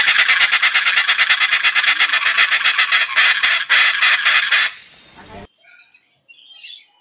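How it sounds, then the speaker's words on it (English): A Dracula parrot from the jungles of Papua New Guinea screams in a rapid run of loud, harsh, close calls for several seconds, then breaks off into a few fainter scattered squawks. "The ultra-rare Dracula Parrot looks like a vampire and screams to communicate."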